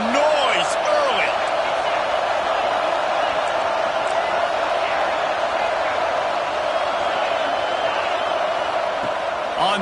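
Dense, steady roar of a college football stadium crowd at an A&M game, loud and continuous throughout with scattered whoops and cheers rising above the wash of noise.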